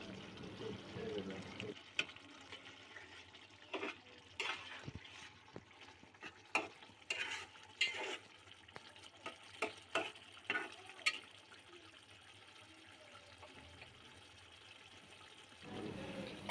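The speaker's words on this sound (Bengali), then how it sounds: "এবার একটু নেড়েচেড়ে দিলাম।" Pigeon meat curry stirred in a pot with a spoon, thickened gravy giving irregular scrapes and wet clacks with a soft simmering bubble between strokes, close and moderately quiet.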